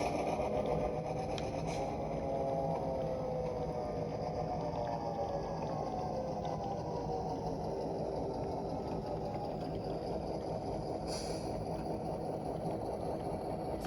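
A SoundTraxx sound decoder plays an EMD 567 diesel locomotive engine that settles into a steady, low idle rumble with harmonic drone, continuous and fairly quiet throughout, with no talking.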